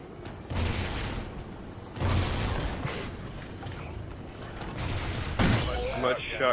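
Shotgun blasts in Call of Duty: Extinction, a few heavy booming shots spaced seconds apart amid game noise, with a voice talking between them.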